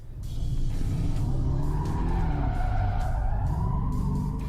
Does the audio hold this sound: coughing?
no